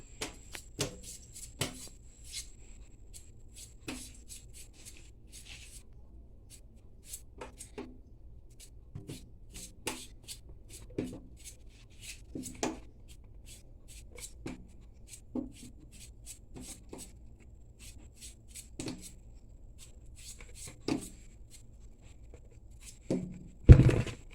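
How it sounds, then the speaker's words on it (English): A potato being peeled by hand, with short, dry scraping strokes repeating at an uneven pace over quiet room tone and a louder knock at the end. "I'm starting off by peeling off the potato"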